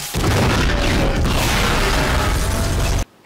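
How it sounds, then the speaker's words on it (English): A loud, sustained blast rumbles through a tower in the film Dawn of the Planet of the Apes, holding heavy low-end roar and debris noise for about three seconds before cutting off abruptly. "the explosion damages but hardly destroys the tower"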